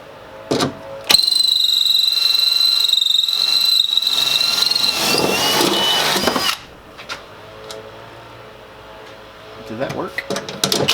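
A power drill bores into the vehicle while a mountain hatch is being installed, giving a high, whining grind for about five seconds. Brief clunks and shorter bursts come before and after.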